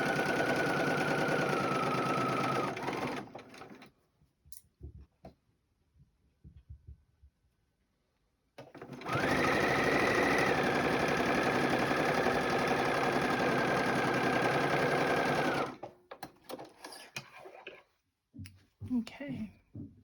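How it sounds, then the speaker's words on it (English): A sewing machine stitches a quilt block in two long, steady runs of fast mechanical whirring and rattling, separated by a pause with soft handling noises and followed by scattered clicks. "And then I'm going to go ahead and stitch this together."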